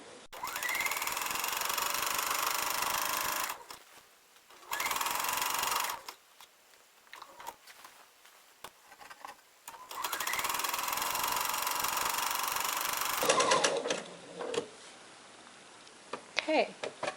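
A sewing machine stitches down a mitered quilt border in steady buzzing runs of a few seconds each, pausing between bursts, with a person talking in the gaps and lighter clicks and handling noises toward the end.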